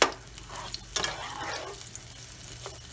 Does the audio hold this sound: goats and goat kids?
no